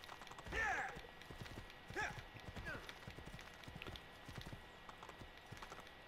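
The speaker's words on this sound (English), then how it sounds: "So, back on the horse." Horse hooves clip-clopping on the ground in Assassin's Creed II, a steady trotting rhythm at moderate volume with a louder onset near the start and fainter continuing steps, no talk over it.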